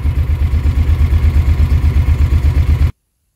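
Kawasaki Mule utility vehicle engine idling close by with a steady, rhythmic low thrum, then cutting off abruptly into silence.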